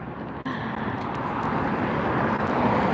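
Airliner arriving at Los Angeles International Airport, a steady broadband jet roar heard from outside, loud and sustained throughout with no talking.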